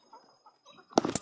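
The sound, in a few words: chicken clucking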